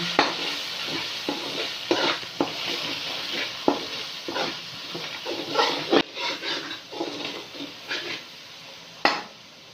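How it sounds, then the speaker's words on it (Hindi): Red chili powder, salt and turmeric frying in a pan give off a low sizzle, punctuated by frequent sharp clicks and scrapes of a spoon stirring against the metal, close and fairly brisk. "मसालों को अच्छी तरह से भून लेंगे"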